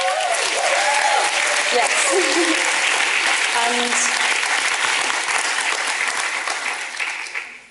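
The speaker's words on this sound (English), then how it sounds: "every time people applaud" An audience applauds at a climate justice talk, loud sustained clapping that fades toward the end, with a voice speaking briefly over it.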